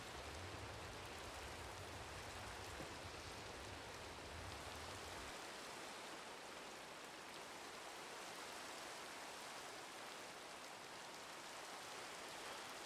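Rain falls in Minecraft as a constant dense hiss. A low rumble sits under it for the first five seconds and then drops away, leaving the rain alone.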